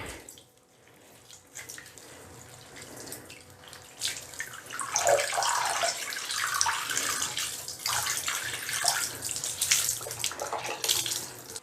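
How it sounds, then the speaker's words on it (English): Wet handspun yarn gently pressed to squeeze water out, giving soft splashing and trickling that builds from quiet to a steady, close watery wash. "the first thing I'm going to do is just press the water out very gently."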